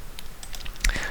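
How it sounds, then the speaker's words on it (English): Typing on a computer keyboard during web calculator coding gives a short run of light, scattered key clicks with one louder press near the end, close to the microphone and without speech. "Let's try typing some stuff and hitting the clear button."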